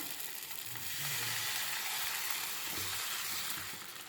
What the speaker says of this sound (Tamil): கல் காஞ்சிருச்சு, தோசை ஊற்றிக்கிடலாம்.